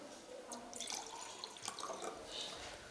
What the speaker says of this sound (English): when I pour the water, see what happens.